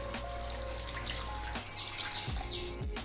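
About a glass of water is poured into a pot of mutton curry, giving a close, steady splashing flow with faint chirps in the background.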